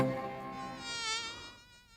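A small bee buzzes close by with a thin, whining hum that rises and wavers in pitch for about two seconds before fading.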